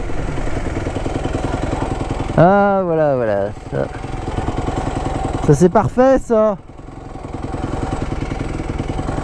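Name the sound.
motorcycle engine running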